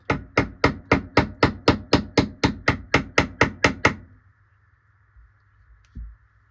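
A hammer strikes a punch driving a pin into a Howa rifle part clamped in a vise, about fifteen sharp, evenly spaced metallic blows up close, then quiet with one faint knock near the end.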